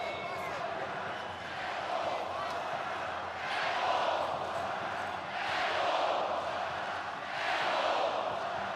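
Handball fans at the 2014 Women's EHF Champions League final between ŽRK Budućnost and Győri Audi ETO KC keep up a big arena roar that swells in repeated waves, heard from a distance under a commentator's voice.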